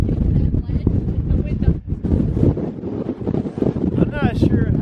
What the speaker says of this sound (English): I'm not sure how hard the wind's blowing right now